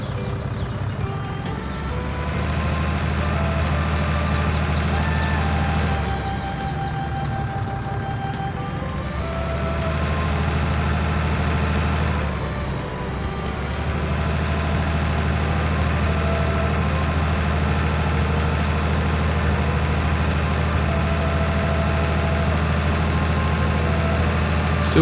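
A truck engine idles in Farming Simulator 2019, a continuous low droning hum with layered harmonic whine that holds steady throughout, joined by a few faint high beeps.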